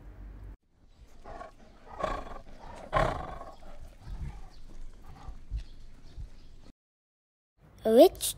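A tiger gives a series of rough, low growls and roar bursts at close range, with pauses between them. A short, sharp, rising call sounds at the end.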